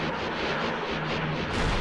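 Turret fire in space combat from the X4 Star Wars mod rolls as a steady, loud, booming barrage with rhythmic pulses, heard alone without talk.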